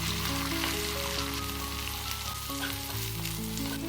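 Small sambar onions fry in hot oil with spices, a dense, loud, continuous sizzle and crackle heard up close, with occasional stirring beneath and a low steady hum.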